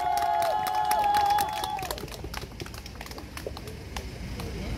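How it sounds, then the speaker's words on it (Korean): Audience applause at a political rally with scattered sharp claps and some cheering, a held tone fading early as the clapping carries on at moderate level. "큰 박수 부탁드립니다"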